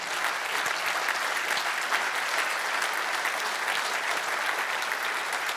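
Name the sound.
applause at a political speech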